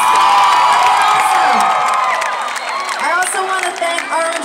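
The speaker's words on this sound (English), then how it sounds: "I just want to give you guys a round of applause" A large concert crowd at a show in Israel cheers, whoops and applauds in a loud, continuous wash of voices and clapping that holds steady, with shrill individual shouts rising over the roar.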